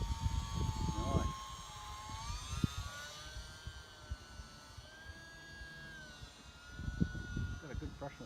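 A remote-control helicopter with a brushless motor flies in windy weather, its steady whining motor hum rising and falling in pitch against wind rumble, with brief bursts of noise near the start and end.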